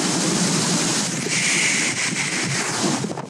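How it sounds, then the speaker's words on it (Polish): Choppy waves on Lake Ohrid wash and crash against rocks near pontoons in a steady roar, with heavy wind noise on the microphone and no talk. "Jak fale rozbijają się o tutejsze skały."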